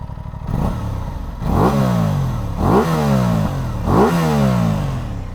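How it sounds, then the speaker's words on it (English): Four sharp throttle blips from a 2023/24 Aprilia RS 660 parallel-twin motorcycle, each revving up and falling back in a steady rhythm, loud and close with no talk. "Certainly sounds like a parallel twin"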